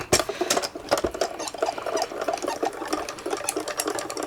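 Paper in an embossing folder is cranked through a manual die-cutting and embossing machine, giving a continuous uneven clicking, crunching rattle up close, fairly loud with small irregular bursts.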